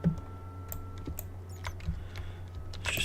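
Computer keyboard keys click in sparse, irregular taps during a Minecraft session, close and fairly quiet over a low steady hum, with no talking.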